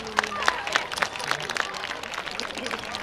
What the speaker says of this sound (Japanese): 弥生の皆さんにもう一度大きな拍手をお願いします。